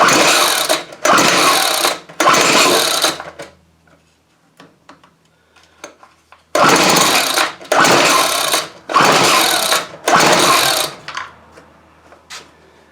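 A Weed Eater XT600 string trimmer being pulled over on choke gives loud rasping cranking bursts, three and then four in quick succession, separated by a quiet stretch with faint clicks.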